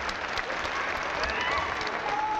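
A pro wrestling crowd at a tag team match applauds and cheers in sustained, dense clapping that fills the hall throughout, with a commentator's voice faintly under it.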